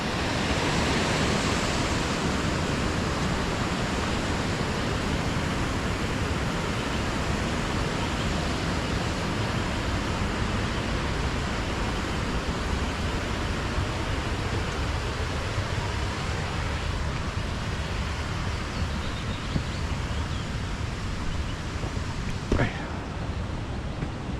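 Steady roar of a waterfall and rushing river, loud and constant throughout with no breaks, broad and hissing like heavy white water close by.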